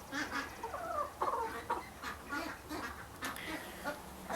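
A mama duck near her nest on a homestead gives a string of raspy, irregular quacks and low grumbling calls, close by and moderately loud, with no talking.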